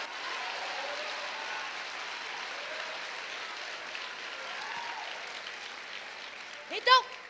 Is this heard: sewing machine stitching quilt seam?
no